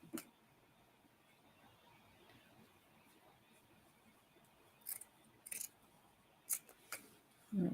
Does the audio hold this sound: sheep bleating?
no